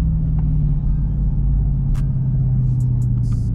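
A Dodge Scat Pack idles with a deep, steady low rumble close by, holding an even tone throughout, with a few faint sharp ticks and short noises above it.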